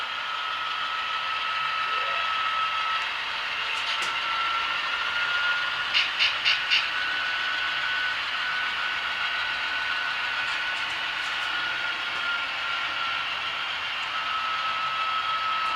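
Three HO-scale model diesel locomotives, an Atlas 840BW, a Kato model and an Intermountain GEVO, run together with a steady electric motor whine, a thin high hum and a few brief clicks of wheels on track.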